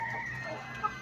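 A hen calls her chicks, clucking softly in short, low calls, with a brief sharper peep near the end, close by and steady.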